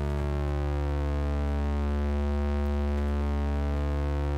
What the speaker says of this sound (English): Ooh, farty noises.